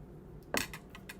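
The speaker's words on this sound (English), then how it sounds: "I'm just going to cut my avocado." A knife slices into an avocado with one short, crisp cut, followed by a few faint clinks and taps against a hard surface, close and quiet in an otherwise still room.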